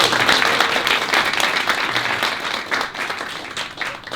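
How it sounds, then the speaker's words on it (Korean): A church congregation at a Christmas service applauds the worship team, a dense, loud burst of many hands clapping that runs throughout and eases slightly toward the end. "여러분 찬양팀을 위해서 큰 박수 한번 부탁드려요."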